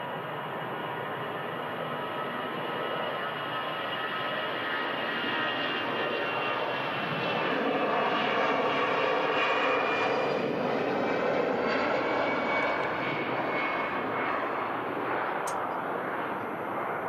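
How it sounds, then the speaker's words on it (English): An EasyJet Airbus A320 on its takeoff roll at Manchester Airport, bound for Milan: a loud, sustained jet engine roar that swells steadily and holds strong throughout, heard alone with no talk. "EasyJet. Next out on the roll to Milan."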